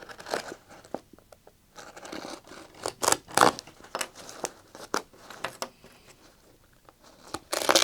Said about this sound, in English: So I'm going to cut this apart, and this one I can cut right down this seam here.